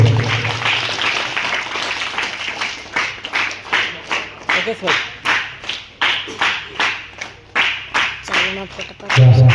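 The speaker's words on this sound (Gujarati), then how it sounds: "તાળીઓથી આપણે આ સન્માનને વધાવી લઈશું મિત્રો" A crowd of students and guests claps in applause to welcome an honour at a school music camp, a dense run of irregular claps that swells into rhythmic bursts and keeps going nearly throughout.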